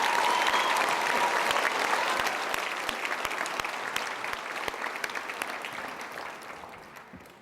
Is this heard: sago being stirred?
no